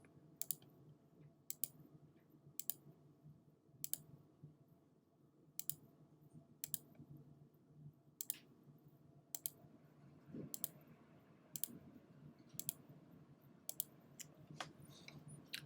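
Computer mouse clicking while working in Adobe Illustrator: crisp, evenly spaced single clicks, about one per second, faint and close over a low room hum with no talking.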